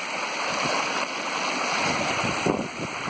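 Rainwater rushes down a mountain trail that has turned into a stream, high in Daisetsuzan National Park, Hokkaido, at about 2000 metres; a steady, close, broadband wash of flowing water with no voices.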